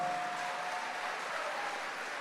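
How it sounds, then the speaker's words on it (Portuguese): An audience applauds at a Catholic testimony talk by Fr. Donald Calloway; the clapping is a faint, steady wash lasting about two seconds, heard from a distance with no voices over it. "Aplauda com força"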